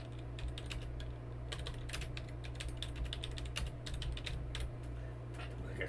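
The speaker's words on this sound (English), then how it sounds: "I got crust in my keyboard." Rapid clicking of a computer keyboard being typed on at a trader's desk runs steadily and close, with a low electrical hum underneath.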